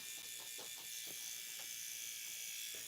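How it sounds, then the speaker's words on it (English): A new electric brow trimmer runs against a quilt seam with a faint, continuous high buzz, with small bursts of scratchy contact as it catches threads, steady and close throughout. "and then I come in with my brow trimmer and just hit it"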